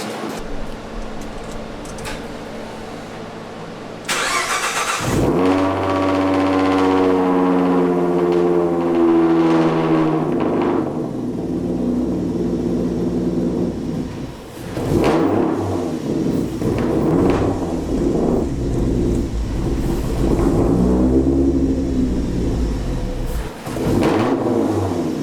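A Ford Mustang GT500 fitted with a 3.7 V6, running a stock tune, cranks briefly and fires up loud and close, then settles into a steady idle with a few light blips and a thud or two along the way.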